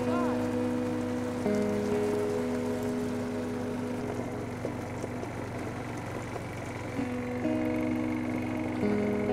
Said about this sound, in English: now it's raining and it's all wet and it's gone heavy